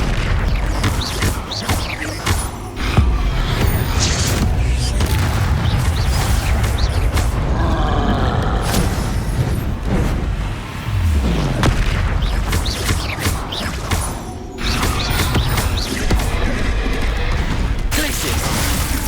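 Confringo blasting spells go off in a Harry Potter-style video game, producing a loud, near-constant barrage of booming explosions and rumbling impacts with only brief lulls.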